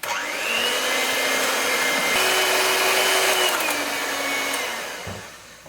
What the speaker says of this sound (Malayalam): അതിനുശേഷം നന്നായിട്ട് വിപ്പ് ചെയ്തെടുക്കാം.